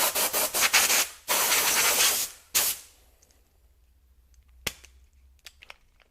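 An air compressor blowgun lets out several short, loud bursts of hissing air close by, followed by two longer sustained blasts, one last brief puff, and then near silence broken by faint clicks.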